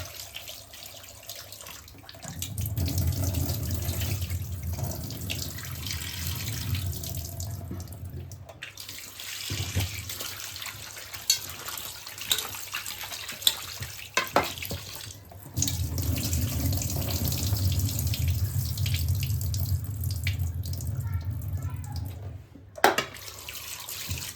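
Chicken pieces are washed under a running kitchen tap, with the water gushing into a sink in long close bursts and stopping in between, plus some splashing and handling sounds while the flow is off. No one speaks.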